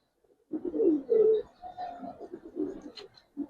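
Several pigeons, including silver Giribaz and Khaki breeds kept by a fancier, coo in soft throaty bursts close by, with a couple of louder rolling coos and a brief chirp near the end.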